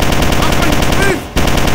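Rapid machine-gun bursts in a WWII shooter game set at Normandy, loud and continuous with a regular staccato rhythm, briefly cutting out before firing resumes, with faint game voices mixed in.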